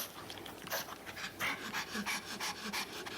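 A pet puppy pants close by in quick, rhythmic bursts of breath, with a few soft snorts mixed in.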